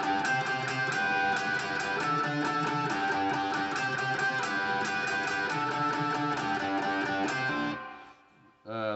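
Electric guitar plays a riff from a song, steady strummed chords with a rich, ringing tone lasting about seven seconds before cutting off abruptly, with a brief pluck at the end.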